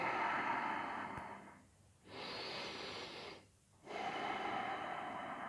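Slow, audible breaths during a yoga stretch, long hissing inhales and exhales separated by two short pauses, close and quiet.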